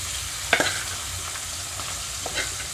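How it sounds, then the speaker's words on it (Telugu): Boiled bitter gourd pieces cook in hot oil in a pan with a quiet, steady sizzle, broken by a sharp clink or tap near the start and a softer one later. "ఆయిల్ అంతా హీట్ అయిన తర్వాత ఇందులోకి నేను ఈ ఉడికించి పెట్టుకున్న కాకరకాయ ముక్కలు వేసుకుంటున్నాను"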